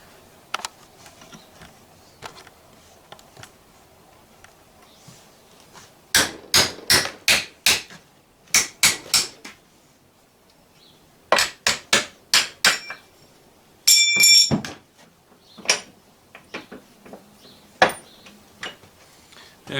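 A hammer strikes a scored metal piece from tractor steps to snap it off, sharp ringing blows in quick bursts of three to five, loud and close, separated by brief quiet pauses.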